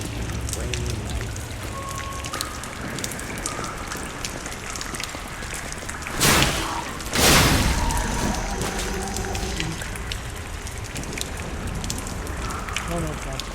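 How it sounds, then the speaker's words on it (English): Rain falling at night in the video game Lies of P, a dense steady hiss of rainfall broken by two sharp crashing bursts, with faint intermittent tones in the mix. "Rainy night."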